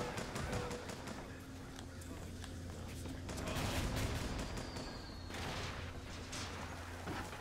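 Sustained gunfire in Bioshock Infinite, rapid bursts of shots with booming impacts throughout a busy combat scene, steady and fairly close, layered over a low droning game score.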